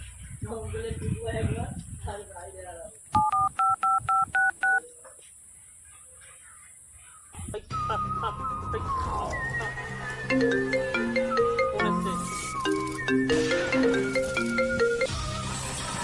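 Speech, then a quick run of telephone keypad tones, a quiet pause, and a busy stretch of tones and ringing-like electronic beeps.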